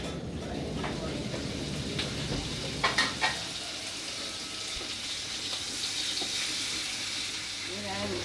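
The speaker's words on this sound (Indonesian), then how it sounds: "Goreng kerupuk" Kerupuk crackers fry in hot oil for a soto lunch, giving a continuous bright sizzle with scattered crackles and a few sharper clatters, moderately close and steady throughout.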